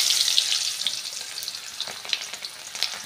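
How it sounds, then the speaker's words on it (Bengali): Chopped onions sizzling in hot oil with cumin seeds for a Bengali village-style sorputi fish dish, giving a steady, close frying hiss with scattered small pops and crackles throughout. "গোটা জিরেটা হালকা ভেজে নিয়ে এর মধ্যেই দিয়ে দেব 2টো মিডিয়াম সাইজের পেঁয়াজ কুচি"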